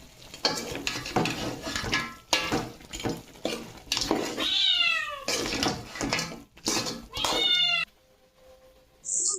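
A cat meows repeatedly in rising, drawn-out cries, mixed with kitchen clatter of dishes and utensils, ending with a quieter pause.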